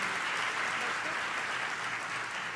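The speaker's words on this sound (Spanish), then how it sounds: "Denles un aplauso" Church congregation applauding during a Spanish-language service, a steady dense wash of clapping that holds evenly at moderate level throughout, with no clear voices on top.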